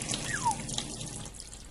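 Brief water rinsing from the video game Deponia, a short splashing trickle with a small drip-like chirp, fairly quiet and heard on its own.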